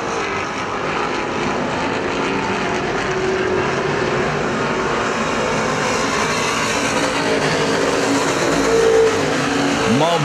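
Street stock race cars roar around a dirt speedway, a continuous loud engine drone from the pack that rises and falls as cars pass, with an announcer talking over it.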